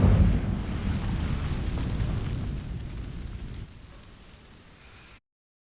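Incendio fire spell in Hogwarts Legacy setting dry vines alight: a loud whooshing burst at the start settles into a steady crackling roar of burning that gradually fades, with no talking.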